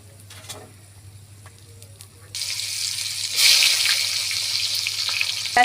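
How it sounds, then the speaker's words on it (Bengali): Cardamom pods and cinnamon sticks drop into hot oil, and the quiet kitchen turns into a sudden hissing sizzle that jumps louder partway through and then holds steady and close. "আমি এলাচ ফল আর কাঠ দিয়ে দিলাম।"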